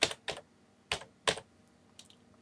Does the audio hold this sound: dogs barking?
no